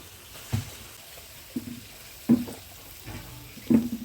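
Skin-on chicken pieces with a little oil, alongside fried potato, in a pan: soft sizzle and frying with several stirring scrapes and clinks spaced through, close and moderately quiet, no speech.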